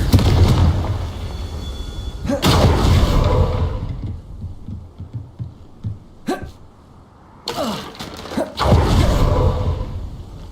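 Confringo fire spell blasts in Hogwarts Legacy, loud booming bursts with a sharp crack midway and roaring explosive swells, over continuous rumbling game ambience.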